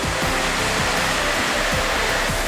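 Wind blowing at a riverside viewpoint over the Kinugawa river at a hot spring resort, a steady loud rushing hiss with low rumbling gusts hitting the microphone, continuous throughout and nobody speaking.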